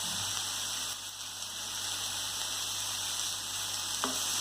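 Papaya and cowpea thoran being mixed in a pan with coconut oil, a continuous hissing sizzle close by with faint stirring scrapes and no voices.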